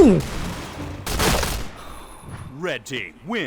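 A short burst of MP7 gunfire in the PUBG video game crackles out midway, preceded and followed by someone talking excitedly.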